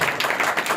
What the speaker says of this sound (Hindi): जोरदार ताली बजाकर उनका स्वागत करें